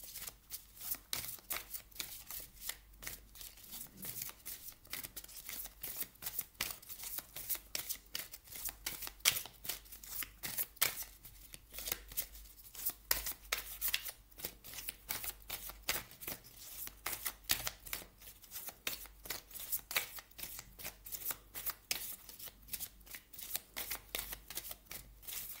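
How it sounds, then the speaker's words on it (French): Oracle cards being shuffled for a reading, a steady run of soft, rapid riffling and flicking from close by that carries on without a break, with no voices. "on va regarder maintenant au niveau des parts d'ombre avec les cartes lumière de Lise Bartoli"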